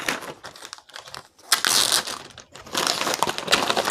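A gallon Ziploc bag is handled and crinkled up close, with bursts of crisp plastic rustling and crackling that pause briefly, then resume louder and denser.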